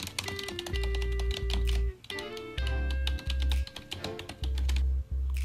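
Rapid computer keyboard typing clicks along in quick bursts with short pauses. Steady tonal electronic beeps and a low humming drone play underneath, like a staged hacking sound effect.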